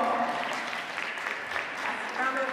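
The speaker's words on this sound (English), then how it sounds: "a round of applause for the volunteers." Applause for volunteers at a women's national wheelchair basketball championship, a moderate, steady round of clapping from the crowd lasting a few seconds.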